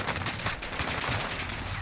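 Rapid bursts of Armaguerra rifle fire in the Warzone video game, dense and continuous across the whole short stretch at moderate loudness.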